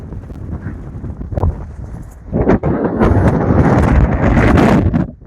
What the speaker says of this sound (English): This is really, really windy out here now